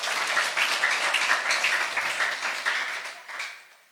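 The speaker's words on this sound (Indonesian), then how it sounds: "Tepuk tangan untuk Tuhan Yesus." A church congregation claps steadily for a few seconds, dense applause that holds even and then tapers off at the end.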